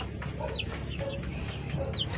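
Pet chickens kept at a rural Philippine home cluck close by, several short rising calls spread across a couple of seconds over quiet outdoor background.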